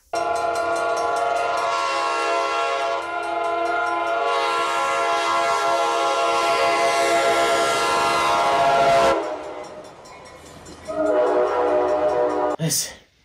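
A locomotive air horn blares a loud, sustained multi-note chord for about nine seconds, then cuts off; after a pause a second, shorter horn blast sounds, with no talk over it.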